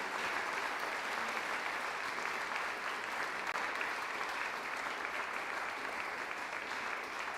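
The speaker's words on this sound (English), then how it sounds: "another massive round of applause" Sustained applause fills the hall for the champion at the finals of the Springfield Scottish Squash Open 2023, a dense, steady wash of clapping from the crowd that holds evenly from start to finish with no speech.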